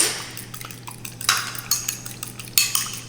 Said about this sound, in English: I've cracked the egg, but I'm just gonna quickly beat it up